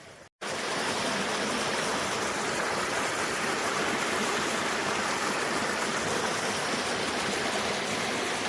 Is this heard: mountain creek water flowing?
yes